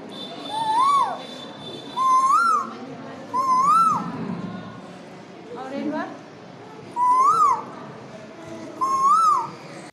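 A woman imitates a koel's call six times. Each is a clear whistled note that rises sharply, with short pauses between calls.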